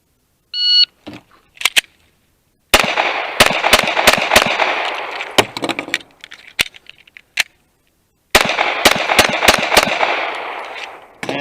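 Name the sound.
semi-automatic pistol shots being fired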